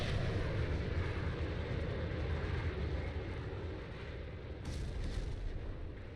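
Laser-guided bombs dropped from an A-10 explode in the flight game VTOL VR, a heavy, rumbling blast wash that rolls on continuously, layered with engine roar and no talk.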